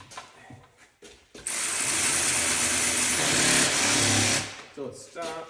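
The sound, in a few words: cordless ratchet running in bolts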